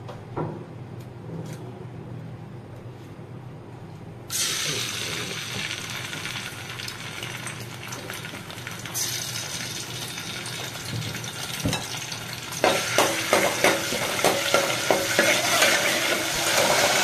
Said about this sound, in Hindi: अब इसमें जो है मैं लहसुन अदरक का पेस्ट डालूँगी।